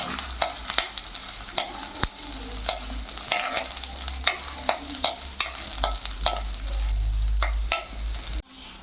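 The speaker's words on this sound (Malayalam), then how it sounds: "എണ്ണ, കൊച്ചുള്ളി, വെളുത്തുള്ളി, പച്ചമുളകും ചേർത്ത് ഒന്ന് ഇളക്കി കൊടുക്കുക." Oil, shallots, garlic and green chilies sizzling in a clay pot, stirred with repeated close scraping strokes over a constant fry, the sizzle swelling louder before cutting off abruptly.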